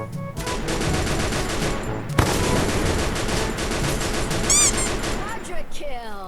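Dense, continuous rapid-fire gunfire from an M60 machine gun in a multiplayer shooter video game, with bursts running almost without pause, a sharp louder crack near the middle and game effects toward the end.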